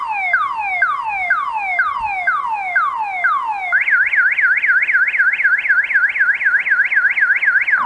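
Car alarm sounding on its own, loud and close: a cycle of repeated descending whoops, then a rapid warbling up-and-down siren tone, steady and continuous.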